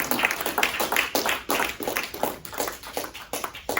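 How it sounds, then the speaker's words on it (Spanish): A church congregation applauding during a Spanish-language worship service, with irregular, fairly close clapping from a modest crowd in bursts that rise and dip throughout. "Vamos a dar los fuertes aplausos."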